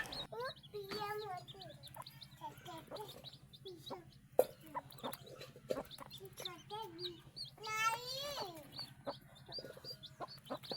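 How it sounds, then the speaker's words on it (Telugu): A chick still inside its egg cheeps in quick, thin peeps with a few louder bursts, close and fairly quiet over a low background hum, with occasional voices. "ఈ గుడ్డులో చూడండి కోడిపిల్ల ఎలా అరుస్తుందో"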